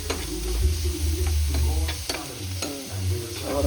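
Sweet potato sautés in a hot pan with a steady sizzle, while a spoon scrapes and stirs it in several distinct strokes up close. No voices are heard.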